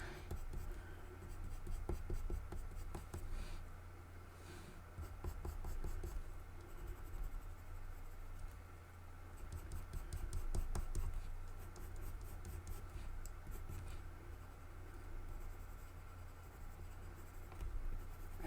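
A pencil fitted with a pencil extender shading on paper, a faint, steady, close scratching that keeps going in soft strokes for the whole stretch.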